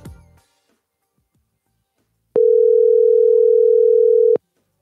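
A steady telephone dial tone drones for about two seconds after a short bump of noise and quiet.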